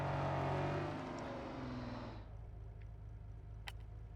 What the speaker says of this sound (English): There we go, 9 Bugattis. I've got them all. There we go. The Bugatti Bolide.